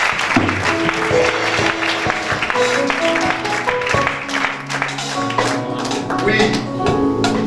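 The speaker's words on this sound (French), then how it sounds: "Alors, on acclame le Seigneur pour être." A church congregation at a Sunday service applauding in praise, a dense burst of clapping with rhythmic taps and crowd noise, mixed with voices throughout.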